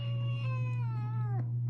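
Russian Blue kitten gives one long, drawn-out meow that bends downward near its end, close and clear over a steady low hum, with no talking.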